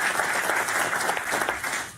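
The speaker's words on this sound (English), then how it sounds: "Please, a round of applause." An audience at a World Economic Forum open session on agriculture breaks into applause, a dense, steady clapping from many hands that tapers slightly at the end.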